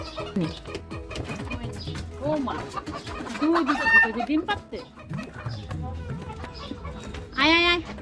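Native country chickens kept at a home cluck and call repeatedly up close, with one loud rising squawk near the end, while people talk nearby.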